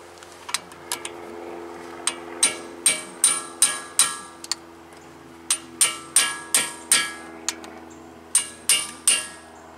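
Impact driver backing a screw out of a 2017 Honda Civic front brake assembly: repeated sharp rattling hammer bursts in short groups with brief pauses, close and loud over a steady low hum.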